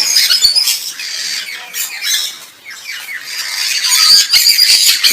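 Many birds squawk and screech at once in a busy, overlapping chorus, shrill calls coming from several directions without pause.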